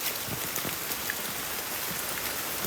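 Heavy rain pours steadily on Mount Salak, a dense, even hiss of drops striking surfaces with no pause. No voices are heard.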